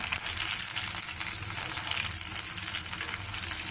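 Brinjal curry with fenugreek-chilli spice frying in a pan gives a steady, dense sizzle that runs unbroken and fairly close, with faint stirring scrapes and no voices.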